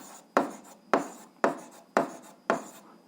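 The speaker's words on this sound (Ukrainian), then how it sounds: "записуємо ту розв'язку" Pen strokes on paper while writing out the solution to an eighth-grade algebra equation, six rhythmic scratching strokes about half a second apart, close and clear with no talking.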